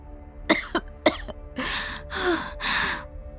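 Harsh coughing up close: two sharp coughs, then three longer raspy coughing bursts in a row.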